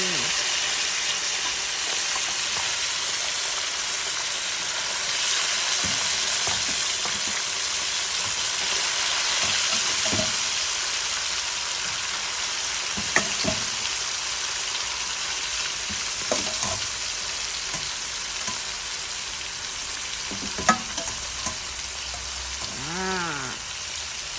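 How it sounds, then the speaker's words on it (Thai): Coke-marinated chicken pieces fry in boiling oil in a black pan, making a continuous dense sizzle with intermittent stirring clatter and a few louder pops close by. "แล้วก็จะเอาลงไปทอดแล้วนะครับ"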